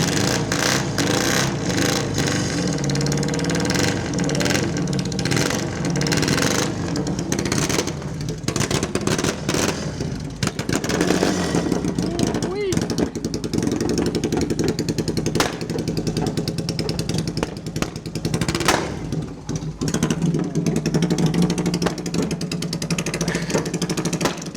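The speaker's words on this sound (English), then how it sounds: "I can certainly hear the bike. Oh, popping and banging." A motorcycle engine revving loudly in a workshop, rough and sustained with sharp pops and bangs from the exhaust breaking through the roar, close by throughout.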